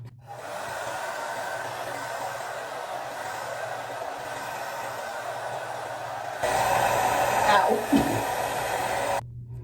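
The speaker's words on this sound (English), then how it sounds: "just finished blow drying" A hair dryer on its cool setting blows steadily on hair with a constant airy whir, growing louder for a few seconds near the end before cutting off.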